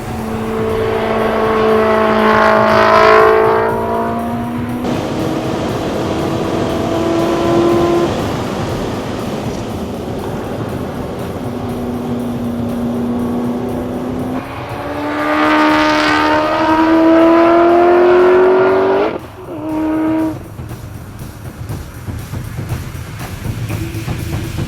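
Modified Aston Martin Vantage lapping a race track, engine note rising and falling through gear changes as it passes, loud and near, with shifts and a brief throttle lift near the end.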